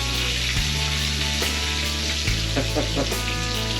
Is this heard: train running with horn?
no